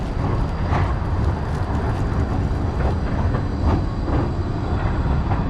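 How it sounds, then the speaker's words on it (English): A tram rolls past on the Gold Coast with a steady, loud rumble of wheels on rail that holds up close for the full stretch, without voices. "And then that's my tram there."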